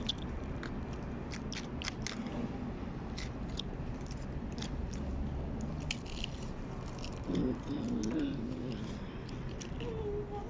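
Crunching and chewing close to the mouth while eating crunchy Vietnamese coffee rolled ice cream, with crisp bites and soft squishy mouth sounds repeating steadily, and a voice murmuring briefly near the end.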